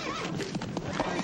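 A horse whinnies and neighs loudly up close amid a busy barnyard scuffle in a classic 1958 film scene, with hoof clatter and a voice calling to calm the animal.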